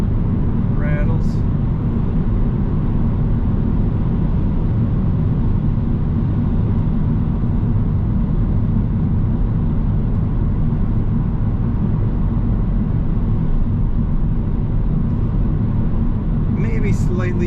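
A 2018 Ford Transit Connect Titanium passenger long-wheelbase van cruises at 60 mph, heard from inside the cabin as a constant low road-and-engine drone that holds steady the whole time, with a couple of faint high chirps near the start and end.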